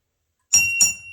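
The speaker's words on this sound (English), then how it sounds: "I'm going to ring the bell for it just because it is an interesting, unique whiskey." A small desk bell rings twice in quick succession during a wheat whiskey tasting, each bright metallic ding sharp and close, alone without talk, the second ring trailing off with a lingering shimmer.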